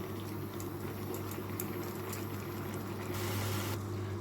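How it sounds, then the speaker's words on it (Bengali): Raw mango simmering in a covered pot on an induction cooker, a steady close bubbling and hiss that holds evenly throughout with no one speaking. "আমি ঢাকা দিয়ে রান্না করে নিচ্ছি"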